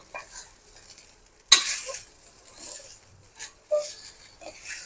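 Small kozhukattai dumplings tossed with spice powder are stirred in a pan. Close, sharp spoon scrapes and clacks come in bursts, with quieter shuffling and faint sizzle in the pauses and no voices.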